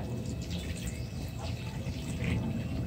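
Water pours into a gold panning pan (bateia) over crushed rock material, making a steady, close splashing wash that runs unbroken for about three seconds.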